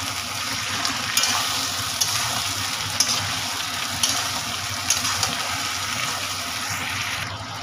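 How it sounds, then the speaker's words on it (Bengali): Drumstick, green banana, tomato, green chili and ginger paste fry in a pan, a close steady sizzle with soft, regular scrapes and clinks of a spoon stirring the mixture. "একটু নেড়ে দিচ্ছি"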